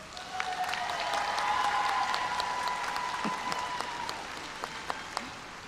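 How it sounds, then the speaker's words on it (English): A graduation audience at a university commencement for education and nursing breaks into sustained, dense applause, a hall full of clapping that swells and then slowly tapers, with a faint tone briefly underneath. "Give your families a round of applause."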